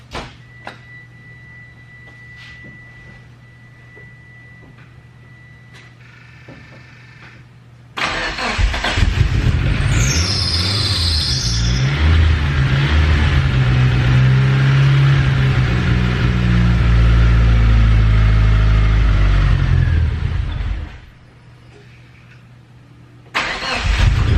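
A first-generation AWD DSM car engine, not started in a while, cranks and catches, then runs loudly with a steady idle for about twelve seconds before cutting off, close by.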